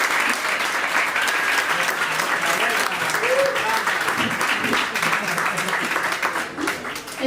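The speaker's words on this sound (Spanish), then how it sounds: "así que por favor recibidla con un fuerte aplauso" An audience at a Pint of Science talk breaks into sustained, full applause to welcome a speaker, steady and dense before thinning out at the end.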